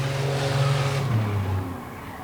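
Chevy minivans, a 2001 Chevy Venture and a 2005 Chevy Uplander among them, race on a track: a loud engine drones at a steady pitch, then drops lower as a car passes and fades away.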